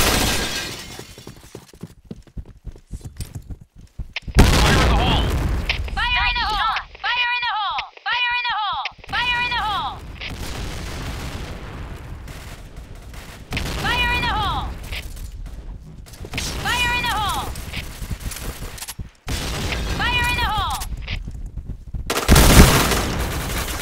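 Point Blank video game combat: bursts of gunfire and loud blasts, with repeated shouted in-game voice callouts spread across the clip.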